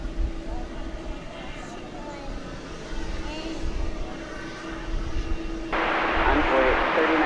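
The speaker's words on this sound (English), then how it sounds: "this aircraft has gotten clearance to cross runway 18 right" A jet aircraft taxis across runway 18 right at DFW Airport, its engine a low distant rumble with a steady hum, rising louder near the end, while a person talks over it.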